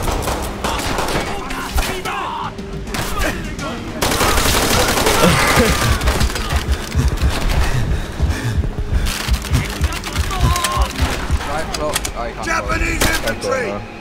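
Dense gunfire and explosions fill a World War II shooter battle against Japanese infantry, with rapid bursts, thuds and booms running continuously, loud and busy throughout while players talk over the chaos.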